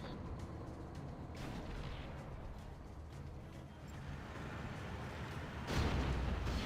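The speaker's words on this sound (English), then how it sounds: "That Vet 3 Scud launcher." A veteran-rank Scud launcher strikes in a Scorched Earth real-time strategy match: deep, continuous rumbling booms and blasts build throughout, ending in a louder, harsher explosion burst near the end, with no talking.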